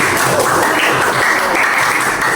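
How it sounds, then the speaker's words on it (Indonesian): A crowd claps continuously at a steady level, a dense wash of applause filling the room from start to finish. "Kasih tepuk tangan regu"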